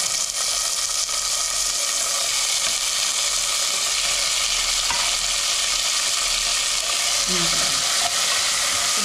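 Potatoes fry in a pan with green chilies and tomatoes, giving a steady, close sizzling hiss that runs unbroken throughout with no talk.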